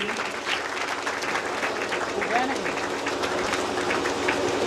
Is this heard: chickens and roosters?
no